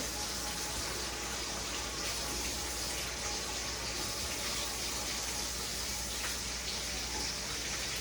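Water runs steadily for washing up in a home kitchen, a continuous close gushing wash that covers the whole stretch.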